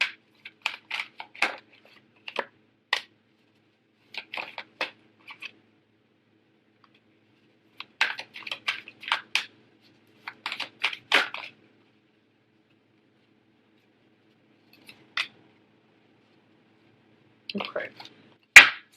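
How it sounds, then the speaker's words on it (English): Tarot cards being shuffled and pulled from the deck: scattered short flicks, snaps and rustles in small clusters separated by quiet gaps, close and soft, with no talk over them. "Okay, I'm going to pull out 3 cards for you guys."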